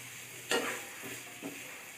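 Mint and coriander go into a hot pan with chopped carrot for barley soup, giving a soft, low sizzle. A spatula scrapes through sharply once, then twice more lightly, and no one speaks.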